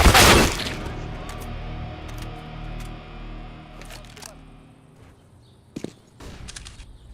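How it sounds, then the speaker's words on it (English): A flashbang grenade goes off in Counter-Strike: Global Offensive with a loud, sharp burst at the start, followed by a long fading ringing tail and a few faint clicks and taps later. "I am throwing a flashbang!"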